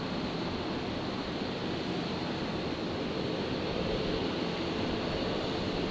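A Virgin Boeing 737-800 rolls for takeoff at Brisbane Airport, bound for Melbourne. Its jet engines give a steady, broad roar that holds at an even level throughout.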